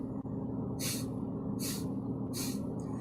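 Three short, forceful nasal exhalations like snorts during a yoga breathing exercise, evenly spaced about every 0.8 seconds, close and clear over a steady low background hum.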